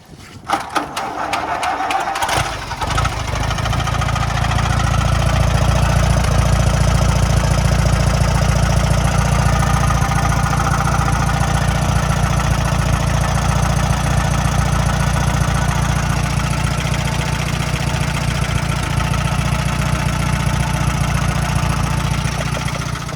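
An old tractor's engine cranks over with rapid starter clatter for a couple of seconds, then catches and settles into a loud, steady idle that runs evenly in a snowy outdoor setting.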